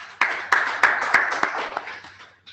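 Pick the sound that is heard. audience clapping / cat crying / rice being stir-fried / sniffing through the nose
audience clapping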